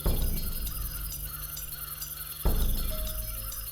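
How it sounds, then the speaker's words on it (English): Distant crows caw over a steady outdoor ambience, harsh calls repeating faintly, with a brief thin tone near the end. "Nothing but the cry of dark and hungry birds that circled endlessly overhead."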